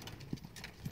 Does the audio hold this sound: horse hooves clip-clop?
yes